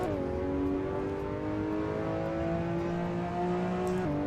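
Race car engine in Assetto Corsa hot laps at Mugello, a sustained whining engine tone rising steadily in pitch through a gear, then dropping sharply at a shift near the end.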